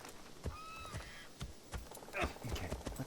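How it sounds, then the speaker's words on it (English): Horse hooves in the video game Assassin's Creed Shadows: a handful of soft, irregular clopping steps at low volume as the mount slows to a stop, with a faint tonal whinny-like sound early on. "let's park the horse right here"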